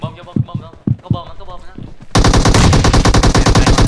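Rapid automatic gunfire in a video game, a loud continuous burst of shots that abruptly starts after a few seconds of people talking, then keeps hammering steadily to the end.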